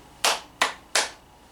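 A classroom gives three sharp claps in unison, evenly spaced and crisp, each with a short decay, then quiet.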